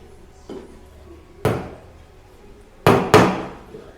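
Hammer blows driving a nail into a wall niche during construction, four sharp knocks: a light tap, a firmer strike, then two loud hits in quick succession, each ringing briefly in a quiet room.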